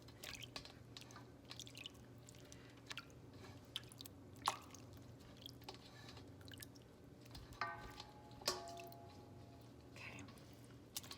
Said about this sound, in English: But this is just called washing your butter. And it's just, you're just kind of kneading.